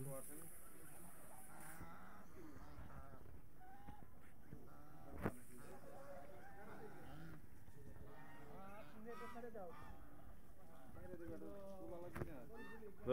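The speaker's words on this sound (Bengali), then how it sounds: "মেলা রাজহাঁস" A large flock of geese honks over and over at close range, the calls overlapping continuously while people talk nearby.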